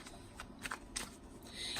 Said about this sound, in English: So we're almost done with the shuffling.